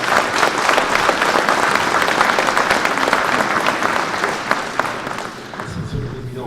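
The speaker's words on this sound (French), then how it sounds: "on peut l'applaudir" Audience applause welcoming a newly introduced mayor at a Saturday community event, a dense sustained roar of many hands clapping close and loud, thinning slightly toward the end.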